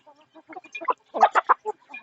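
Chickens feeding on rice bran give soft, short clucks in an uneven patter, a few louder bursts near the middle, close and otherwise quiet.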